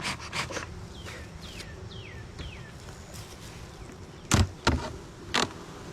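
Honey bees buzzing close by in short bursts, with a few louder thumps and rustles breaking through the steady low hum.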